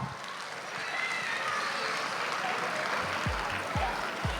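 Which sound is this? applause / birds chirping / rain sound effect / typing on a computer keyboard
applause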